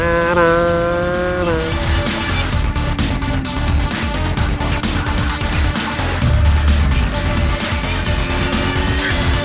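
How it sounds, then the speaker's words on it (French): A Kawasaki Ninja motorcycle, either the Ninja 7 Hybrid or the Ninja 500, is ridden hard with gear changes made without releasing the throttle. A loud, close engine whine climbs, drops at each shift and climbs again over several seconds. "On passe les vitesses sans lâcher les gaz."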